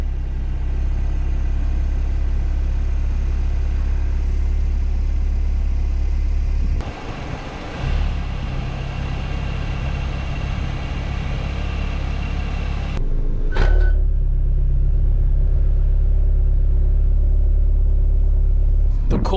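A 2018 Porsche Macan engine idles with a deep, loud rumbling sport exhaust, shifting in tone partway through as the exhaust valves open in Sport Plus mode, with a few brief mechanical bumps.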